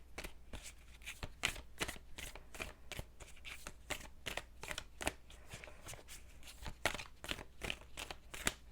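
Tarot cards being shuffled in a quick, steady run of crisp riffling slaps and flutters, close and fairly quiet, continuing without pause and with no voices.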